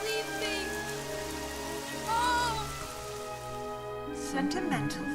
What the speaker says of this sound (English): And of course it has to rain.